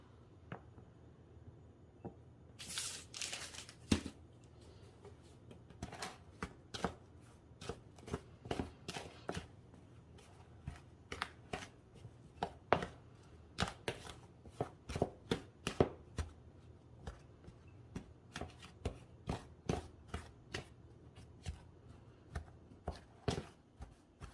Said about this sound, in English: we're gonna mix this in until this whole thing gets a little bit crumbly